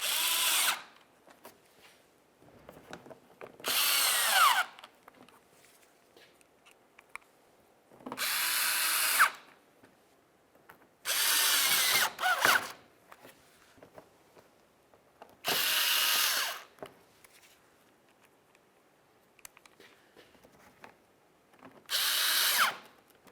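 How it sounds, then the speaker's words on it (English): A power drill drives headlight mounting screws on a 2007-2012 Nissan Sentra, running in six loud separate bursts of a few seconds each with quiet handling noise between them. "We'll put in all 3 of our mounting screws for each corner."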